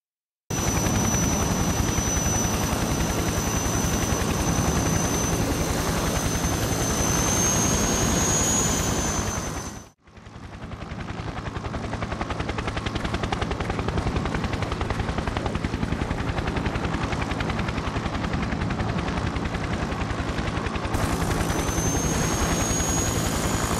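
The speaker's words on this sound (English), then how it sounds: "We'll be inserted covertly by helicopter and make our way down the cliffs to this box camp." Helicopter insertion in the Desert Watch game: a steady, loud rotor and engine drone runs throughout, dipping briefly near the middle before resuming at full strength, with a whining high tone over the top.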